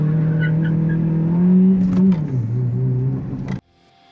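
An F1 car laps Silverstone in the racing game F1 2020, a strong, steady engine whine that climbs in pitch, drops sharply through a gear change, then cuts off abruptly, leaving near silence.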